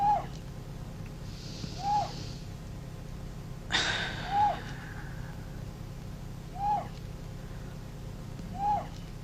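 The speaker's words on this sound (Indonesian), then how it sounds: "Kau dengar suara burung itu?" A single bird, likely an owl, calls repeatedly at night with short, evenly spaced hoots about every two seconds, moderately near, along with a brief noisy burst midway over a steady low hum.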